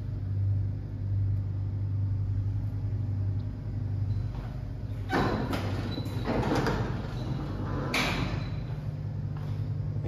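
The sliding doors of a vintage Otis traction lift at 2 Martin Place, Sydney, rattle and clunk through their travel over a steady low machine hum, with a sharp knock near the end.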